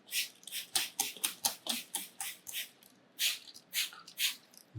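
A spray bottle of luminol is pumped in quick repeated bursts, about a dozen sharp hissing sprays close up, with brief pauses between groups.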